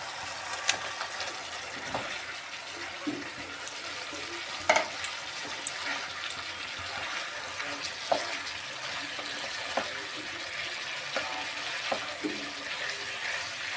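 Cauliflower frying in a cooked-down spice masala, a steady broadband sizzle with occasional clicks and scrapes of a spoon, no voices.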